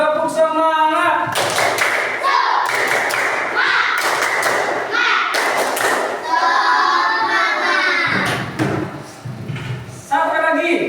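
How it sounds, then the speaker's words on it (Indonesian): Rhythmic spirit-clapping in a classroom lesson sounds as bursts of sharp claps and thuds in patterned groups, mixed with children's chanting voices. "Mari kita tepuk semangat. Coba, ayo, tepuk semangat."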